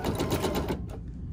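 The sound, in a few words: embroidery machine sewing with orange thread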